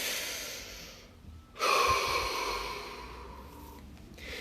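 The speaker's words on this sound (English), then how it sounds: "Deep breath." A person takes one deep breath, a soft airy inhale that swells into a fuller, louder exhale, close and alone with no talking.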